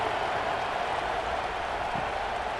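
Large stadium crowd at an Ohio State vs UCLA college football game in College Football 26 on PS5, a steady, dense murmur of noise filling the whole stretch without any sharp cheers or swells.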